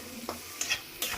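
Noodle ingredients are stirred in a frying pan over a soft sizzle, three brief scraping strokes spaced about a second apart, up close and without talk.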